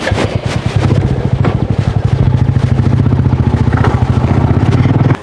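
Motorcycle engine running close and loud with a steady, rapid chugging throb, holding a constant pulse throughout as the bike idles or rides off.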